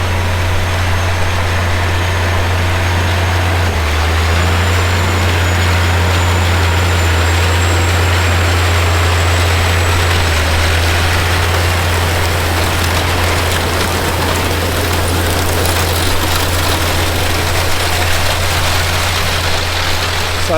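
A seeding bar chattering over very hard ground behind a tractor, buried in the tractor's constant heavy engine drone, loud and unbroken with a faint whine rising partway through.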